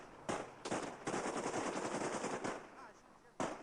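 A volley of rifle fire from a squad of eight paratroopers in a firing-squad execution crackles in rapid overlapping bursts, with several separate loud cracks followed by a longer sustained rattle. The shots are faint and distant and sound like old archival audio.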